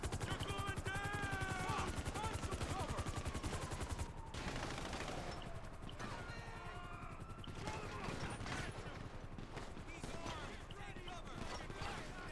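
Rapid automatic gunfire in a GTA Online or Fortnite match, dense steady bursts of shots running almost throughout, with short gaps and game effects mixed in, while a voice talks now and then.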